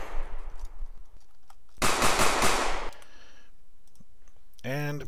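Pistol fire in a bank heist game under development, a burst of sharp rapid shots lasting about a second amid quieter clicks, with a brief voice at the end.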